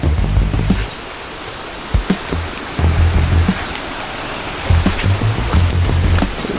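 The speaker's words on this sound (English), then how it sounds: "We can see a stream of water" Water from a stream at Falling Edge in Kingston, Jamaica rushes in a steady, full hiss. Low thumps and bumps come and go beneath it, and no one speaks.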